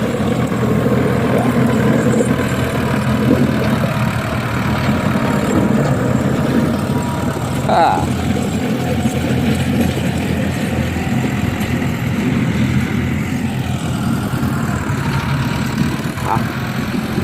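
A big tractor ploughs a dry, hard rice field before sowing, its heavy engine droning steadily and loudly throughout with a constant low rumble and no pauses.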